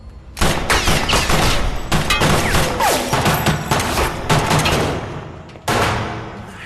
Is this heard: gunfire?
yes